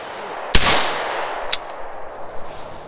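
Rifle fitted with a Marmot shell catcher firing its last couple of rounds: two sharp, loud shots about a second apart, the first ringing longest, with clattering and rattling afterward and no talking.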